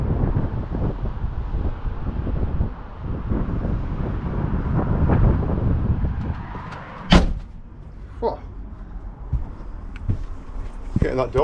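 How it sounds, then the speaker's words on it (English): A van door is pulled shut outdoors in wind, giving one sharp thud midway through after steady low wind rumble, followed by a few lighter knocks. "Getting that door shut."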